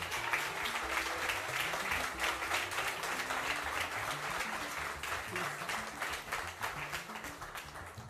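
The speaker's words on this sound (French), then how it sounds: "Tonnerre d'applaudissements pour Yen, s'il vous plaît." A festival crowd at the opening of a summit gives a long, loud round of applause, dense clapping with a faint musical backing underneath that holds steady before slowly easing.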